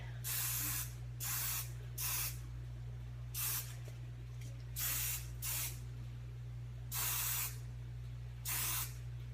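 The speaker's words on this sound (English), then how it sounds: "And then I'm gonna have my spray." Repeated short bursts of aerosol spray hiss in an uneven rhythm, each lasting about half a second, close up over a steady low hum.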